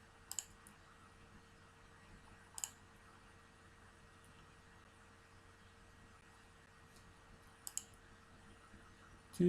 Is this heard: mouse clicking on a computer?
yes